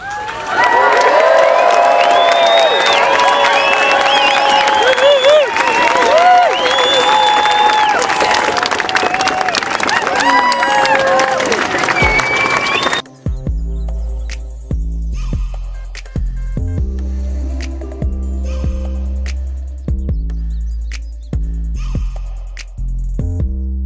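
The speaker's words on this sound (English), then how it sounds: "So can I ask you to cheer, clap, whoop and whistle for the late Johnny Kingdon." A large outdoor crowd at a wildlife protest walk cheers, whoops, whistles and claps loudly for about thirteen seconds, then the noise cuts off abruptly and gives way to quieter sounds with rhythmic low thumps.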